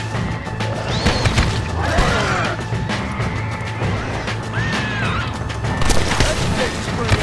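Loud chaotic game audio from Undead Nightmare, with crashing, booming impacts over a dense, continuous wash of noise and music, a few sharper hits standing out along the way.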